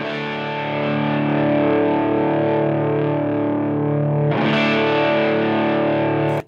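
Two main Les Paul electric guitars through an amp play a thick, distorted mid-range chord tone, sustained and loud, with a fresh strum about two-thirds of the way through and an abrupt cut at the end.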